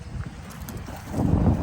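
Gusts of wind buffet the microphone with low rumbling noise, growing stronger toward the end.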